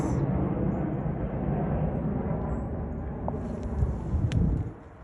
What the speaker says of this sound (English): There's a plane flying right over us.